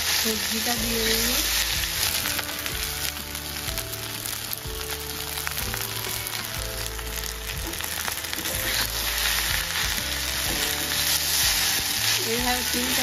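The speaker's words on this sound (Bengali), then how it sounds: "এইভাবে 3 থেকে 4 মিনিট ভালো করে নাড়াচাড়া করে ভেজে নেব" Pasta with vegetables and masala being stir-fried in a pan, a loud continuous sizzle with stirring scrapes throughout, backed by music.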